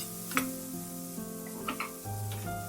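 Boiled peanuts tossed into spiced oil in a pan give a soft sizzle with a few scraping stirs and light clinks, close and fairly quiet, with no voices.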